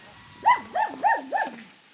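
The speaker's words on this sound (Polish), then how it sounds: "Dzień dobry piesku." A dog barks four times in a quick, even rhythm, each bark short and close, with a slightly whiny pitch.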